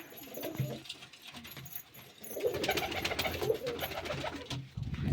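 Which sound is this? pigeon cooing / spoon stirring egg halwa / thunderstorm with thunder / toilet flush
pigeon cooing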